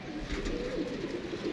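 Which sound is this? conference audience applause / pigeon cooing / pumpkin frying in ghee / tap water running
pigeon cooing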